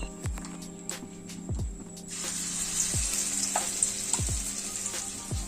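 Lentil paste ground with turmeric, cumin and chilli is tipped into a hot pan and bursts into a loud, close sizzle that grows fuller and keeps going, with repeated low thumps heard beneath it.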